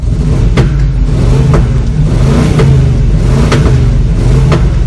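A 1994 Ford E-350 box van engine, fitted with new spark plugs after a leak repair, revs hard and continuously right beside the listener, with rhythmic surges and loud exhaust roar throughout and no talking.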